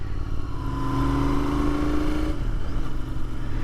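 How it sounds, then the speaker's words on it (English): Royal Enfield Continental GT 650 twin-cylinder motorcycle engine revving steadily with a rising pitch, then dropping sharply around the two-second mark as it rev matches, loud and close with no talk. "just listen to that, listen to those rev matches"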